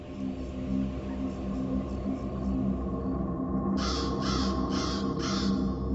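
Crows cawing in a run of four harsh, evenly spaced caws in the second half, loud and fairly close over a steady low background hum.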